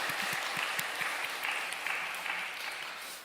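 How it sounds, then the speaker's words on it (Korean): A church congregation at a Sunday service gives a warm round of thanks applause for parents and elders, many hands clapping steadily before gradually tapering off. "우리 사랑하는 부모님과 우리 어르신들을 위해서 감사의 박수 돌리겠습니다."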